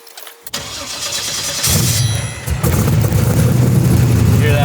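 A 1200hp LS-swapped Buick Regal with a Tilton carbon clutch and lightweight flywheel cranks and fires after a brief quiet moment, then settles into a loud, heavy, lumpy idle that steps up in intensity partway through, with no talk.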